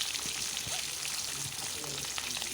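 Boiled eggs coated in turmeric and salt frying in hot oil in a wok, giving a steady close sizzle with faint crackles throughout.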